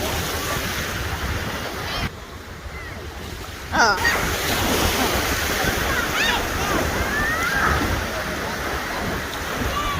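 Ocean surf at a Hilton Head Island beach rolls in with a loud, continuous rushing roar and heavy wind buffeting the microphone, briefly dipping before surging again, while a voice speaks briefly.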